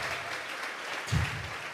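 A church congregation claps as a palm offering to God during a live Sunday-morning service, a soft, steady wash of many hands spread through the room at low level.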